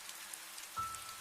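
Heavy rain pours at night on surfaces in a dense, steady hiss, with a deeper drumming layer that swells in near the end of the short burst.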